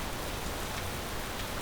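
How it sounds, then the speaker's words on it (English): Heavy rain in the video game Space Engineers: a dense, even, steady hiss of falling rain, moderately quiet and unbroken, with no voices. "And it's raining pretty hard, man."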